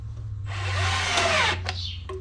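Power drill driving a short 1/2-inch stainless steel screw into a wooden rabbit nest box, one close whirring burst of about a second that slows as the screw seats, followed by a couple of short clicks.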